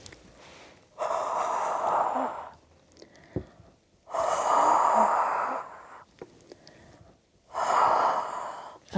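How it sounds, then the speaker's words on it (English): Three long, heavy breaths blown onto a surface to make it sticky again, each lasting over a second, close and breathy with pauses of quiet between them. "So this is deep breathing."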